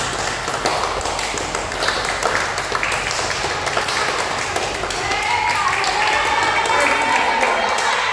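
Junior high school students clap together in a classroom. Brisk, uneven tapping of many hands rises into a fuller, louder burst of applause toward the end.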